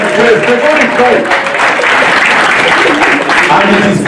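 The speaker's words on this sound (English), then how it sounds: "Clap for them." Guests at a welfare association gala dinner clap together in a loud, close, steady burst that holds for several seconds at even strength.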